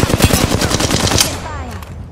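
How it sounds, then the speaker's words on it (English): Rapid automatic gunfire in the Apex Legends video game, a loud, close burst of evenly spaced shots for about a second and a half, then fading into ringing echoes. "Shot fired."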